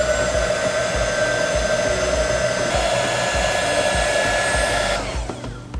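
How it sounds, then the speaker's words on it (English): A heat gun blows a steady, loud whooshing hiss as it shrinks heat-shrink tubing over spliced wires, running continuously before cutting off near the end, with no talking. "I just spliced these with the heat shrinks and I got this heat gun."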